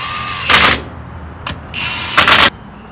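A power tool tightens a bolt on a Dana 60 axle, firing in short loud rattling bursts, two longer runs and a brief blip between them, close by, over a quiet workshop background without talk.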